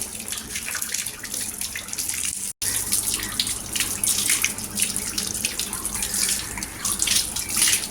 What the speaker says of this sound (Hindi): ये पाइप मैंने जोड़ दिया है यहाँ पे टंकी से, और टंकी को खोलते हैं